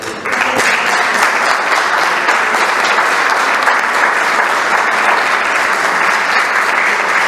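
An audience at a local civic gathering with the mayoress present applauds in honour of Mateo, a soldier from Zarza; the clapping is sustained, dense and loud throughout, with no voices over it.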